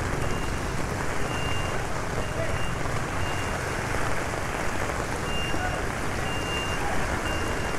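Steady rain pours down outdoors on a street in Manila during canal declogging work, a dense, even hiss of falling water that holds constant throughout, with faint, indistinct voices and background activity underneath.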